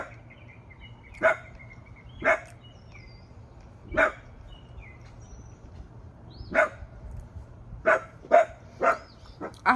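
A dog named Minnie barking indoors, about nine sharp single barks spaced irregularly, some in quick succession toward the end, over a quiet low hum.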